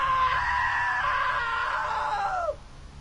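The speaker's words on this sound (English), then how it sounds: "Now that was a great scream." A video game scream rings out, one sustained high shrill cry lasting over two seconds, then breaking off abruptly into a low background.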